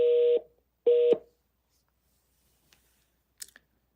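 Telephone tones sound twice in two short, loud bursts, followed by silence and a few faint clicks near the end.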